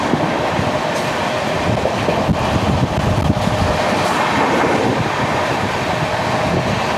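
A Jan Shatabdi Express train runs at high speed toward Mumbai, heard from on board as a loud, continuous rumbling roar with faint rail clatter and wind buffeting.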